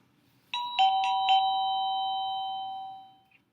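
SadoTech Model H wireless doorbell receiver chiming indoors, a clean electronic ding-dong with a few quick repeated strikes at the start, then a sustained ringing tone that fades away, loud against near silence.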